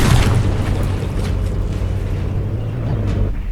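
Heavy explosions from naval battleship combat in the game From The Depths, a loud booming blast up front followed by a sustained rumbling roar with scattered cracks of more impacts.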